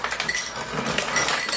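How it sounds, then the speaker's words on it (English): An ice maker dispensing ice, giving a quick scatter of bright clinks and rattles of cubes tumbling, close and fairly dense over a short burst. "Let's see what type of music we can make using an ice maker."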